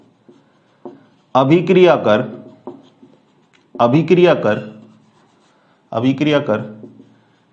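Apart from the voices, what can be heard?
writing on board during chemistry lesson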